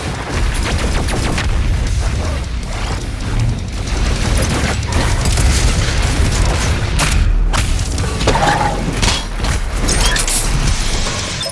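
The BFG 10,000 firing in DOOM Eternal, a dense sustained barrage of heavy booms and mechanical rumbling, loud and continuous throughout.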